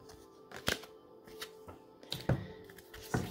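A deck of Angelic Oracle cards is shuffled in quick, crisp bursts of riffling and flicking, several separate shuffles close to the listener.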